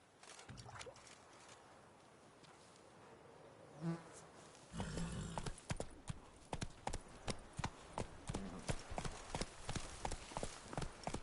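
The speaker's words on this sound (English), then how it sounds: "Whoa there, Roach." Horse hooves clip-clop in a steady, close rhythm in The Witcher video game, starting after a few seconds of quieter ambience with a faint buzzing insect before the hoofbeats.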